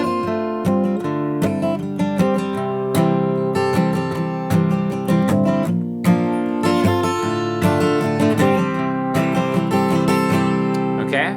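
Acoustic guitar playing the descending breakdown from a song, bright strummed chords and picked notes stepping downward in an even rhythm, close and full with no voice.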